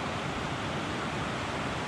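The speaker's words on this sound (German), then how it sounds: "Riesen Bach da." A large mountain stream rushes steadily in the Villgratner mountains, a dense, continuous roar of water heard close and loud throughout, with no voices.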